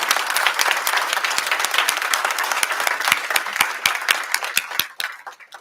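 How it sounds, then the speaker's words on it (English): Round of applause from an audience at a university board of supervisors meeting, dense steady clapping from many hands that holds for about five seconds, then thins into scattered claps and fades out. "That deserves a round of applause."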